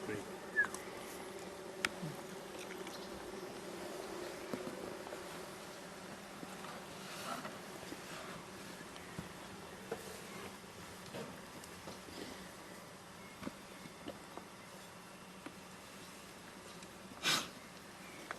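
Honeybees buzz faintly around an open beehive in a quiet outdoor setting, a thin steady drone with occasional louder passes of single bees near the listener.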